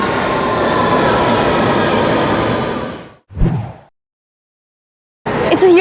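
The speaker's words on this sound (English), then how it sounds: "It's a Eurostar train." A Eurostar train passes through a station, with a loud, steady rushing roar of wheels and air that cuts off abruptly. A brief rumble follows, then silence, then another loud burst of rail noise.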